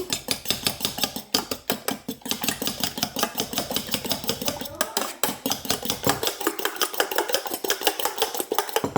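Eggs being whisked with sugar in a bowl: a fast, steady run of light metallic clinks and scrapes that keeps an even rhythm for the whole stretch, close and fairly loud, with no voices.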